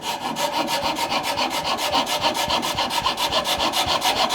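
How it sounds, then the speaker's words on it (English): Rhythmic back-and-forth rasping of a file on wood, steady strokes repeating quickly and close up. "Gonna need to file this bit away here on this corner"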